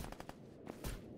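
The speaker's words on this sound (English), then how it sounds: "I hear a lot of gunshots." Rapid bursts of distant gunfire ring out in S.T.A.L.K.E.R. GAMMA, several quick shots in a loose run followed by a heavier boom near the end, faint and far off with no talk.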